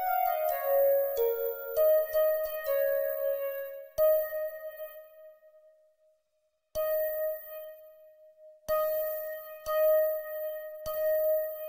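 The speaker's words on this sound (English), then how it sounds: "It's kind of like a nice bell, plucky sound." Plucky bell synth patch built in Serum within FL Studio, with delay and reverb, plays a melodic run of bright struck notes, each ringing and decaying, with a brief silent gap midway before the phrase resumes alone.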